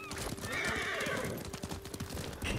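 Horse galloping in the video game Ghost of Tsushima, with a steady rapid clip-clop of hooves on a road and a loud whinny near the start, close and continuous.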